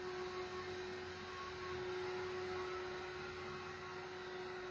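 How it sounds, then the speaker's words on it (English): Household vacuum cleaner running steadily in the background, a constant hum with a strong motor whine, quiet and unbroken throughout with no talking. "Sorry if you can hear my vacuum in the background."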